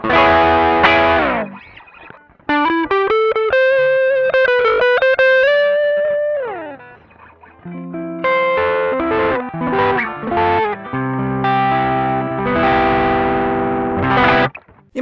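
Overdriven Gibson ES-335 humbucker electric guitar through an Ibanez TS9 Tube Screamer pedal, playing chords and single-note lines with a crunchy, saturated tone and a long sustain, loud and alone.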